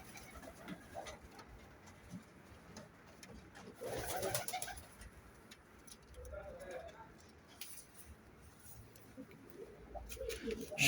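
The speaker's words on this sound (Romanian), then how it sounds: "Și un alt porumbel?" Pigeons coo softly in a pigeon loft, low and fairly faint, with quiet talk and rustling around them.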